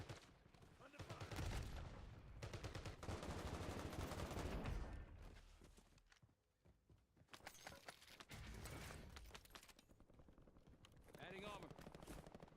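Video game gunfire in dense, sustained bursts of rapid shots with some louder and quieter stretches, mixed with other game sounds and a voice talking over it.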